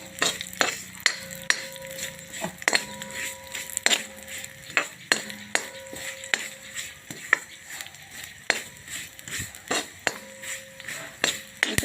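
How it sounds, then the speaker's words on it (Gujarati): Poppy seeds and dry fruits roasting in ghee for panjari: a soft sizzle under repeated rhythmic metal spatula scrapes and taps against the pan, close and fairly quiet. "હવે આપણે ખસખસ નાખીશું અંદર। એને પણ સરસ મજાને શેકી લેશું"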